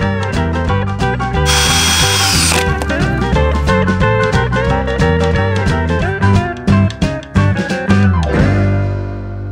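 A power drill drives screws into artificial wood planks on a DIY Japanese-style knockdown house, giving a loud, continuous whirring with rapid pulsing and a brief harsher burst early on.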